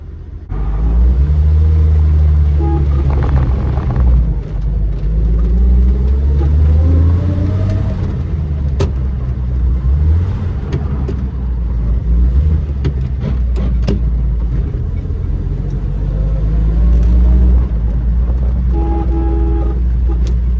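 A 1946 Chevrolet Fleetmaster engine runs close by with a deep steady rumble that rises and falls as it is revved, with a brief horn-like tone near the end.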